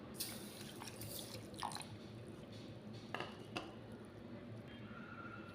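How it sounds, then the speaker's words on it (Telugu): Milk poured into beetroot juice in a blender jar, with soft dripping and trickling liquid sounds and a few small splashes in a quiet kitchen. "ఇందులో మిల్క్ కూడా వేసేసుకుంటున్నానండి."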